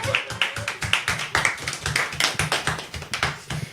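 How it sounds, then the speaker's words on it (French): A small crowd claps in a steady patter of sharp hand claps for a few seconds at a French talk show taping. "Applaudissons René Hernandez."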